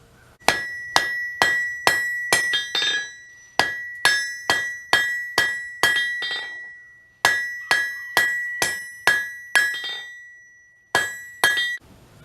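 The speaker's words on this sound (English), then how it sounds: "I'm going to hammer down on these corners" Sharp ringing hammer blows strike hot steel stock on its corners in quick bursts of several strikes, each with a bright metallic clang and short decay, pausing between rounds.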